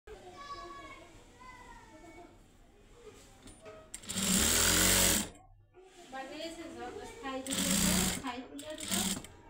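A sewing machine stitching a kali panel onto a salwar, two loud bursts of rapid motor-driven stitching, one about a second long and a shorter one later, with someone talking before, between and after them.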